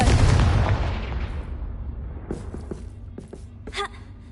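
A Confringo fire spell cast in Hogwarts Legacy lands as a loud booming blast that rumbles and fades over about two seconds, followed by a few sharp clicks and a short crackling hit.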